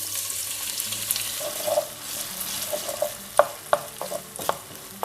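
Diced potatoes stirred in a hot pot with parsley, chili and fermented garlic, producing a steady sizzle with sharp clinks and scrapes of the spoon growing louder toward the end.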